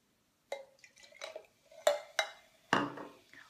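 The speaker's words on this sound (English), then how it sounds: "then I'm going to pour it into this glass" Water poured from a measuring cup into a glass, heard as a few short splashy bursts and clinks of the cup against the glass, close and fairly quiet with pauses between.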